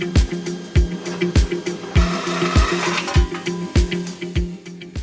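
Steel angle iron, 3 by 3 inches and 3/16 inch thick, is cut into two pieces with a rhythmic, repeating rasping stroke, loud and close.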